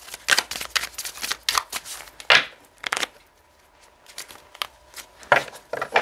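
Tarot cards laid out on a table give quick crisp flicks and soft slaps, a dense run of card sounds, then a pause and a few more placements, close and fairly loud.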